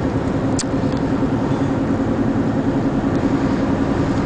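A Chevrolet Lumina car engine idles with a steady, even hum and a faint low drone, heard from inside the car with no voices over it.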